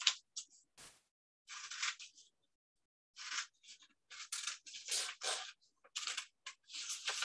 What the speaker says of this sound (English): I'm just going to cut all around the outside.